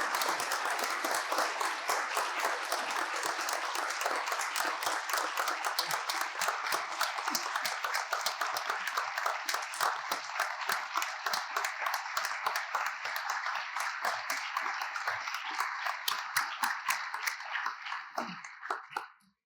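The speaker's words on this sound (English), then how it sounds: "I'd like to give a special round of applause to Deputy Chief, retired now, Pamela Berrigan, for her service." An audience at a police academy graduation ceremony applauds in a large hall, a sustained even wash of many hands clapping for nearly twenty seconds before tapering off at the end.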